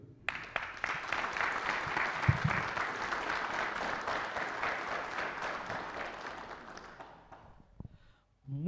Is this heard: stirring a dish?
no